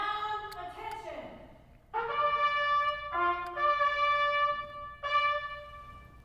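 The 101st Airborne Division Air Assault Band sounds attention at a change of responsibility ceremony, a bright brass call of several sustained notes rising and repeating outdoors at moderate distance, with no talking over it.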